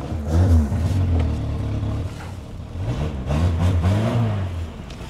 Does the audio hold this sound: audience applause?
no